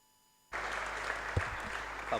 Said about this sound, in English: Applause all around here in Treviso, Italy, as Kai Brunke has helped to the floor